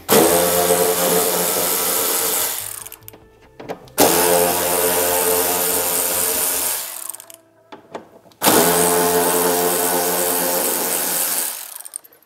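A power tool, likely an impact driver or ratchet, removes 8mm bolts from the rear fender liner of a Toyota GR Supra with the rear wheel off, in three loud, sustained whirring bursts of several seconds each separated by short pauses.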